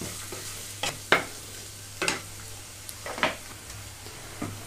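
Green chillies and coriander powder fry in hot oil in a pan: a quiet, steady sizzle punctuated by a few sharp spatula scrapes roughly once a second, close and without talk.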